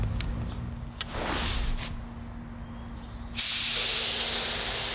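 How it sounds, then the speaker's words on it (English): A paint spray gun running off an air compressor during a test spray, with a soft hiss at first and then an abrupt, loud, steady rush of spraying air that continues close up to the end. "Now we're ready to attach it to our air compressor and test it out."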